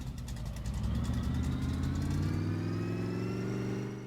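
A junkyard shop truck engine runs close by, revving hard at first and then settling into a steady, rising drone with strong low rumble, no talking over it.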